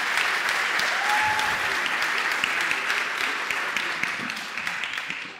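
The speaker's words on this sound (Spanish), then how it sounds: "Un aplauso para Piedad y para Héctor" Loud, dense applause from a crowd, sustained throughout and slowly tapering toward the end.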